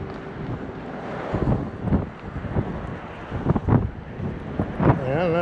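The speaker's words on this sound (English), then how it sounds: "It's really windy, so I'm going to pause the video and put on my wind guard on the microphone" Strong gusts buffet an outdoor microphone on a windy Sonoma County farm, a steady low roar rising into repeated bursts of rumbling wind noise, with no talk.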